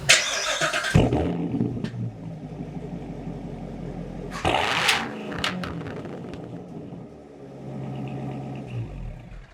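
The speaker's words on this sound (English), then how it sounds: "let's do a cold start on the C7" A C7 car engine is cold-started: a sharp burst as it cranks and catches, then a deep, loud rumbling idle with clattering, another rev surge a few seconds later, and the idle settling, heard up close without speech.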